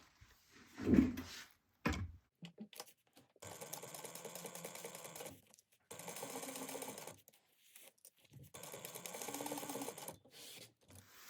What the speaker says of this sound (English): we're just going to sew this together at 1/8 of an inch first